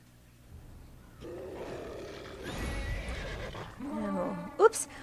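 A horse whinnies in the Neverwinter video game on PS4, a short rising neigh near the end amid busy game sounds and music, with a voice talking over it.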